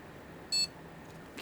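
A gaming PC with an AMD motherboard in a Fractal Ridge mini case gives a single short, clear electronic beep at power-on, set against quiet room hiss.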